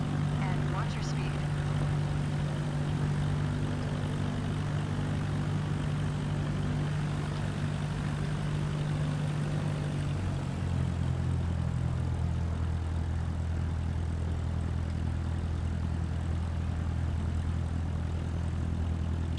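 Steady propeller airplane engine drone from a flight simulator game as the aircraft taxis toward the runway holding point, a continuous close hum whose pitch shifts and settles partway through.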